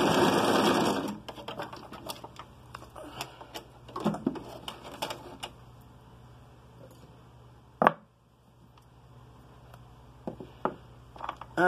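A sewing machine stitching patchwork, with a loud burst of rapid stitching, then short intermittent runs and clicks as the fabric is backtracked and repositioned, close and without talk.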